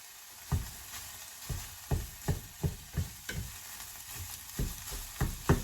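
Turkey and black beans fry in a pan, a soft background sizzle broken by a run of irregular scraping stirs, about a dozen strokes, close and fairly quiet, with no talking.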